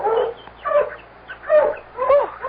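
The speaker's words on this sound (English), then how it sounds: "I'll get the dogs quiet." Several dogs barking in a radio drama scene, with repeated bursts of barks spaced roughly half a second to a second apart, fairly close and loud, with no talk over them.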